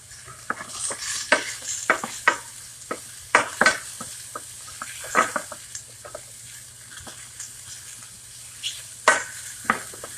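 A vegan omelet cooks on a hot non-stick pan or griddle, with a soft steady sizzle and irregular spatula scrapes and taps spread across the stretch, over a faint low hum.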